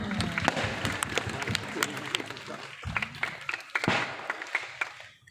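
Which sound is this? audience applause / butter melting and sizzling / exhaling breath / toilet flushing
audience applause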